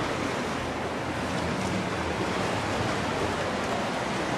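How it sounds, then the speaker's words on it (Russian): Steady roar of sea surf washing in on a beach in Goa, India, at night, loud and continuous, with wind noise and no voices. "Отчетливо слышно, что вот все, здесь уже море."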